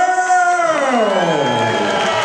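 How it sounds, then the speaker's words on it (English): A loud crowd at a boxing event roars and cheers continuously for a new WBO middleweight champion, the noise swelling and dipping slightly with whoops rising above the din. "get ready for the massive applause we're going to get"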